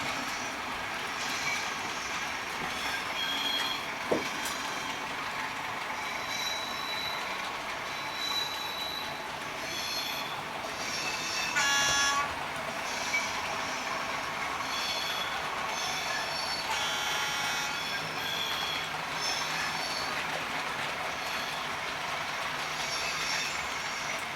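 Industrial trains running on a model railway, a steady mechanical rolling hum with squealing, clicking wheels and small metallic clanks, fairly quiet and continuous, with no talking.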